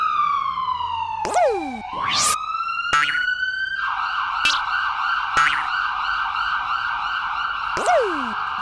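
A wailing police-style siren rises and falls repeatedly with sharp whooping sweeps, loud and continuous; the surrounding story says a boy is imitating the siren with his voice.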